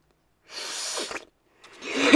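A single sneeze bursts out into a Blue Yeti microphone, followed by a short pause and then a sharp breathy sniff or second snort, close to the mic with no talking.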